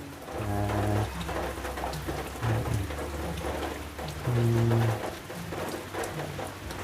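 Rain falls steadily in a constant patter, with low rumbling beneath and a few birds calling at intervals through the downpour.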